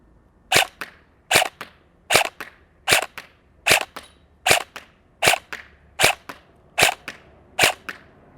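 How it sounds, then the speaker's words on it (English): A KWA QRF airsoft AEG rifle firing at a target: eleven sharp, evenly spaced shots, each a crisp crack with a quick follow-up snap, close and loud with no talking. "So now that we've reloaded, let's shoot the target and see how accurate we are."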